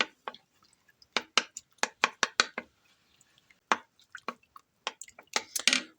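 A spoon breaking up and stirring potato soup in a crockpot, with a series of wet squelching clacks in irregular bursts and brief pauses, close and clear, with no talking.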